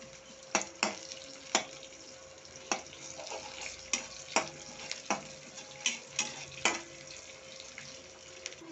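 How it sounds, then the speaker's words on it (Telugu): Onions frying in a pan for a tomato curry give a steady close sizzle, broken by sharp crackles and pops at irregular intervals, fairly quiet throughout and with no one talking. "అది ఆనియన్ ఫ్రై అవుతా ఉంది"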